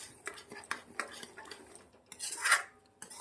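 A metal spoon stirs sugar into freshly boiled milk in a pot, giving a series of light, quick clinks and scrapes at an uneven rhythm, quiet and close, with a slightly louder swirl near the end.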